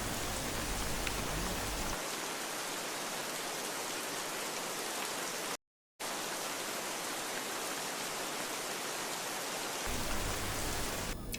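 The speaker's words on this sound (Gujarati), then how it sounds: "હિંમતનગર શહેરમાં વરસાદ વરસ્યો હતો" Rain falls steadily over Himmatnagar town in Sabarkantha district, Gujarat, as a dense, even hiss with a brief dropout partway through and no voices.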